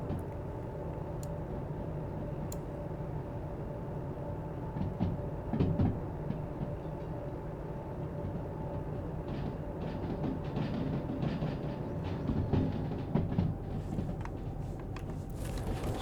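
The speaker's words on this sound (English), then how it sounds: "Let's watch this train come through here." Freight train rolling through in the railway simulation game Derail Valley, a steady low rumble of wheels and wagons with occasional clanks and knocks, continuous and fairly close throughout, with no talking.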